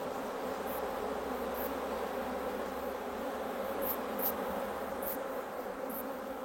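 Honey bees hum steadily around hives at a monastery apiary, a continuous close buzzing with individual insects swelling briefly louder as they pass near, and no voices.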